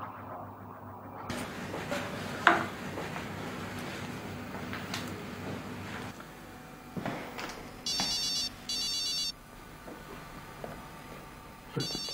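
A phone rings on an outgoing call, with repeated electronic ring tones near the end over a quiet indoor background, heard alone with no talk.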